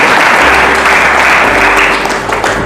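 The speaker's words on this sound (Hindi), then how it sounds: "ताली बजाकर प्रभु की महिमा करें" A church congregation applauding loudly and steadily during a worship quiz, a dense continuous wash of clapping held for several seconds.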